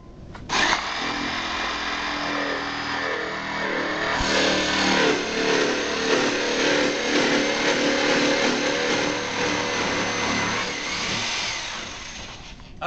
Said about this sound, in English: Okay, that's it. I'm done with power tools.